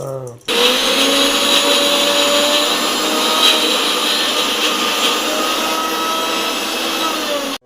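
A mixer grinder whirs loudly and steadily, grinding coconut, green chili and roasted gram into chutney, running for several seconds with a sharp start and stop at either end.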